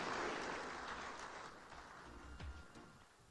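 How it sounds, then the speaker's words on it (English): Faint, distant applause from a seated audience at a formal ministry event as a woman chief director walks to the podium, a soft hall-filling wash that slowly fades. "Please, a round of applause for her as she comes."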